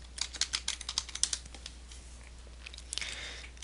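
Quick bursts of typing on a computer keyboard entering a web search, a rapid run of close, crisp key clicks followed by a softer patter near the end.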